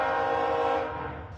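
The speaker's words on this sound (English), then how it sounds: "The iron ore train leaves the yard in Toledo in the dark and arrives in the dark" An iron ore freight train heading southbound through Toledo in the middle of the night sounds a loud, sustained horn blast with rail rumble beneath, the tone tapering off as it passes.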